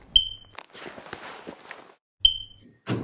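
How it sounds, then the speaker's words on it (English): A smoke alarm with a low battery gives two short, high chirps about two seconds apart indoors, with soft rustling and movement in between. "My smoke alarm keeps chirping."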